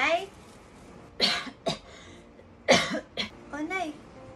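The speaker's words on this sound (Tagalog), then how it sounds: "Ba't inuubo kayo?" Several harsh coughs come in short bursts, close by, with brief pauses of quiet between them and a voice speaking near the end.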